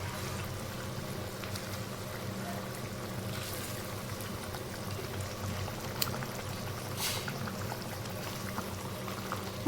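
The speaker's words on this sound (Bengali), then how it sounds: "ঝোলটা ফুটে ওঠা শুরু করেছে, তাই এখন আমি এর মধ্যে এক এক করে মাছের টুকরোগুলো দিয়ে দিচ্ছি।" Katla fish pieces drop into a bubbling curry broth, giving a steady low simmering burble with soft watery pours and occasional faint splashes, no talking.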